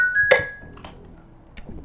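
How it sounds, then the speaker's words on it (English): A dreamy lo-fi piano played dry without effects, one bright struck note ringing out, then a few softer, fainter notes following sparsely, alone with no voices. "It was the dreamy lo-fi piano."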